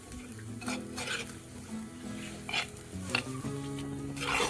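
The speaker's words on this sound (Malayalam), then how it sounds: "ഈ പൊടി ഈ പച്ചമണം മാറുന്നവരെ ഒന്ന് വഴറ്റിയെടുക്കാം" Chili powder sautéed in a pan over a low flame for fish curry, with a soft crackling sizzle under repeated scraping and stirring strokes of a spoon against the pan, close and without speech.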